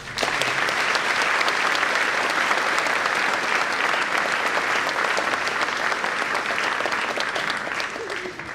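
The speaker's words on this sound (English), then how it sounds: "Give them a round of applause." An audience at an 8th grade promotion ceremony claps loudly and continuously, a dense wash of hands sustained throughout, with a faint voice briefly underneath near the end.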